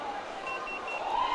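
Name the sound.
food truck alert beeping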